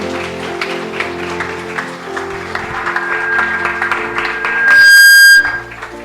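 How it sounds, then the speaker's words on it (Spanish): A crowd applauds steadily with dense clapping during a church sermon, joined by sustained music, the sound swelling briefly near the end. "Puede darle un fuerte aplauso."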